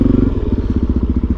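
A motorcycle engine idles close by in a Costco parking lot, a steady loud rhythmic putter with no speech over it.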